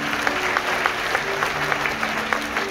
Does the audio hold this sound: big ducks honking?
no